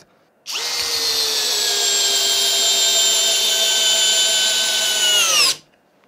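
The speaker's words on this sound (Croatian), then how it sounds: "Hajde da probamo dokle može u drugoj brzini da zavije isto 6 puta 80." A Parkside Performance PBSPA 12 C3 12V cordless drill drives a 6x80 screw in second gear with one loud, close, sustained high motor whine. The whine starts abruptly, sags slightly in pitch under load, then stops after about five seconds.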